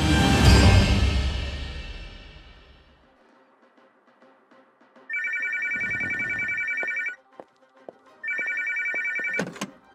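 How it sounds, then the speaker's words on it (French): An old-style telephone bell rings in two long electronic trills, each lasting about two seconds with a pause between, after a loud fading crash and a few faint thumps. "Téléphone!"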